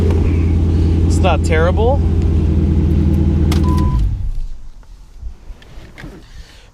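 A 6.1 Hemi V8 running through its stock exhaust, a loud, deep rumbling idle that rises in a couple of quick revs, then cuts out and leaves quiet room noise as a person speaks briefly.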